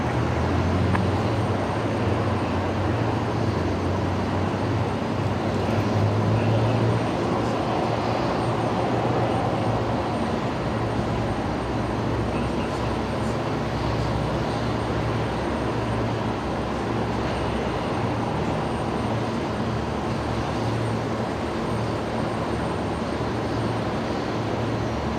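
Airliner taking off from runway 19 right at Brisbane Airport, a steady broadband jet roar that holds evenly for the whole stretch with a low rumble underneath, heard from a distance with no talk.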